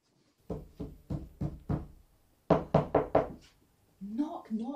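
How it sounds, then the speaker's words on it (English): Knocking on a door as a radio play sound effect in a staging of Macbeth: two bursts of five sharp, evenly spaced raps separated by a pause, fairly close and loud, with a voice speaking afterwards. "Here's a knocking indeed."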